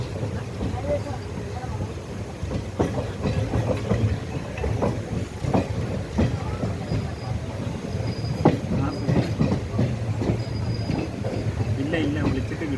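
Passenger train running on the Shoranur–Nilambur line, a steady rumbling roll with faint rhythmic wheel clatter and occasional squeals, continuous and fairly close, with voices talking faintly over it.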